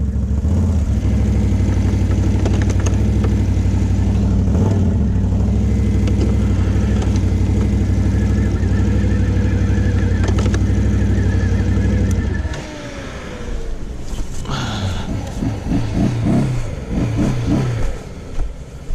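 Brand-new Can-Am Outlander 1000 XMR ATV with a broken drive belt, its engine held at a loud, steady high rev for a long stretch before dropping to an uneven, lower rumble.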